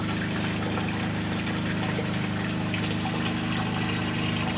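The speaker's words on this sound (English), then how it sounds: "The water is then pumped through the filter sock" A wastewater recycling system pumps filtered water from a tank through a filter sock, giving a steady mechanical hum with a constant watery rush underneath, even and unbroken throughout.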